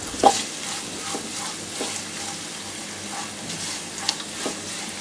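Chopped onion and green chili sauté in a pan for a lunch box rice dish, giving a steady close sizzle broken by a few scraping stirs of a spoon.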